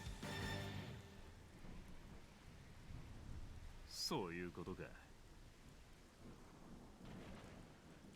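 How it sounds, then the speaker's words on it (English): A thunderstorm with steady rain in the game Xenoblade: a loud thunder crack opens over a constant hiss of rainfall, with later rumbles, and a brief spoken line in the middle. "And here's that storm we were looking at the beginning."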